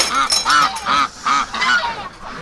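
Domestic ducks shut in their winter pen call out in a loud, steady series of about five honking quacks, evenly spaced and close by, with no talking.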